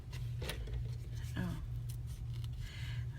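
Scissors snipping paper for a stencil card in a rose-themed card-making session, a couple of short close cuts over soft background hum, with quiet speech nearby.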